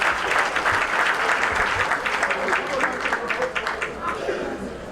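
Audience applause at a Zulu gathering, sustained dense clapping from a crowd that holds steady for the whole stretch with a slight easing toward the end.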